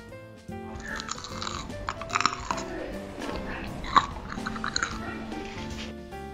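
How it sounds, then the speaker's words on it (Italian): Someone bites into a piece of homemade hazelnut brittle, still warm, and chews it up close, with a string of sharp, crackly crunches over several seconds. "Adesso lo assaggio e vi faccio sentire un attimo la croccantezza."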